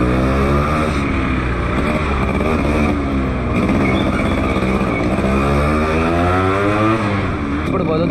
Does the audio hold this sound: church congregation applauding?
no